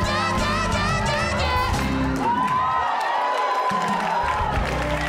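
A church congregation screams, whoops and hollers together in a loud, continuous wave of overlapping voices, with shouts rising above the crowd throughout.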